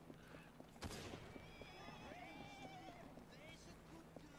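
Horses in Assassin's Creed Syndicate whinny loudly in a rising and falling call over steady clip-clopping hooves, with a sharp bang near the start and busy game ambience throughout.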